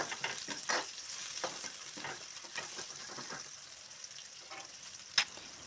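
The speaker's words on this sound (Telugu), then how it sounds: "ముందుగా ప్యాన్లో ఆయిల్ వేసుకొని ఆయిల్ వేడాక కరివేపాకు, పచ్చిమిర్చి, ఉల్లిపాయలు వేసుకొని" Curry leaves, green chillies and onions frying in hot oil in a pan, a quiet continuous sizzle broken by stirring scrapes and one sharp pop near the end, with no voices.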